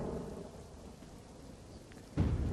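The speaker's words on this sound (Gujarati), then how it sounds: "ભારે ગરમી અને બફારા બાદ વરસાદનું આગમન થયું।" A heavy downpour in Gujarat after a spell of intense heat and humidity: a steady rush of rain, then a sudden loud rumble of thunder that breaks in near the end and stays strong.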